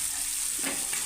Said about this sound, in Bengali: এইভাবে নাড়াচাড়া করে কষিয়ে নিচ্ছি।